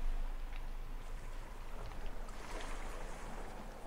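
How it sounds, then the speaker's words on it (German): Rain in the video game Summer in Mara: a soft, steady patter and wash of rainfall, faint and continuous throughout, with a low background rumble. "Ah, es regnet."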